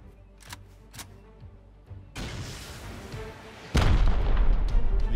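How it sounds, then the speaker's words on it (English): Rockets fired in the survival video game Rust, a few sharp distant pops followed by two heavy booming blasts, the second louder and closer, leaving a sustained rumbling roar. "These guys are shooting rockets at me."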